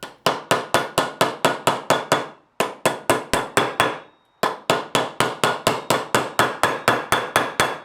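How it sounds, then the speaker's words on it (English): Steady, sharp hammer blows drive metal pins through a kitchen knife handle during a restoration, about three strikes a second in three quick runs separated by short pauses, loud and close with no talking. "I'll drive the pins through the handle."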